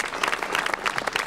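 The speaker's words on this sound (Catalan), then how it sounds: "Un fort aplaudiment a les tres parelles." Brief burst of audience clapping for three dance couples at a Wonder Dance performance in La Vilella Alta, dense and lively with no voices.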